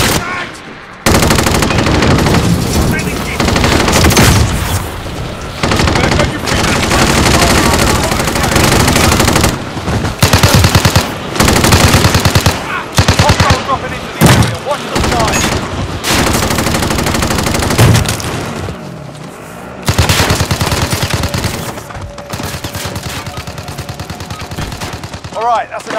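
Sustained automatic rifle fire and scattered gunshots from the Call of Duty: Modern Warfare video game rattle loudly in long bursts with brief pauses, and shouted voices break in now and then.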